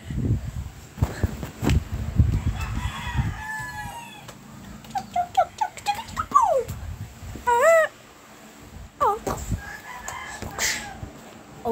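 Dog whimpers and yelps from the video game People Playground, a series of high, rising and falling whines and short cries over low rumbling thumps at the start, loud and close.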